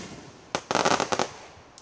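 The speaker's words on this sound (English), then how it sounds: "Fireworks show? Oh, hell yeah." Fireworks show with a rapid cluster of sharp bangs and crackles in quick succession, loud and close, fading to quiet with one faint pop at the end.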